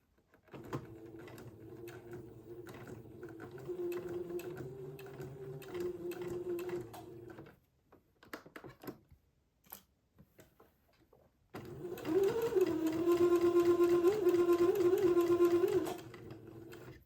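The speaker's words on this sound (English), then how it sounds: "I'm going to sew the sleeve onto the entredeaux, sewing right next to the entredeaux ladder without piercing it" A domestic sewing machine stitching a fabric sleeve onto entredeaux lace trim, heard as steady close-up motor whirring in two runs separated by a pause with light handling noises, the second run louder.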